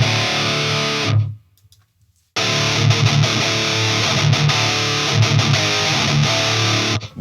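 Heavily distorted metal electric guitar played through a Fender Tone Master Pro with a virtual cab, loud chugging riffs cut by a brief gap of silence before the playing resumes.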